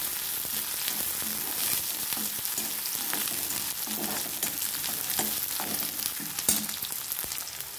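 Chopped onion fries and is stirred in a pan, giving a steady close sizzle with scattered scraping clicks of the spoon throughout and no voices.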